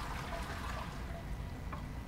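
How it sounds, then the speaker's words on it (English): Water runs steadily from a tap in a bathroom, a faint, continuous trickling hiss with no talk over it. "The water is running though"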